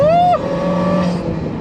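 Rising then steady supercharger whine from a 1.5 litre Suzuki Jimny engine, a loud clear high-pitched tone that climbs, drops sharply as the revs fall, then holds a steady pitch over the engine note.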